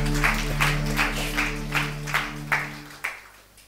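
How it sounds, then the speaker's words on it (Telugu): Scattered applause from a small church gathering greets a visiting preacher, with soft rhythmic claps over a steady low electrical hum that fade out near the end. "చప్పట్లు కొడుతూ ఆయన ఆహ్వానించుకుందాం"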